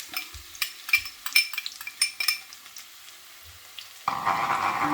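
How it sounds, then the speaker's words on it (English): Garlic and onions are stirred in a pan, starting with several metallic scrapes and clinks of a utensil, then settling into a steady frying sizzle close by. "I'm gonna stir fry my vegetables"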